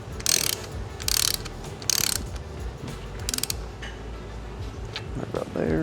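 A threaded part of a Bilstein shock absorber is spun down by hand at the factory, giving several short ratcheting, gritty metallic bursts close up, with a faint voice in the background.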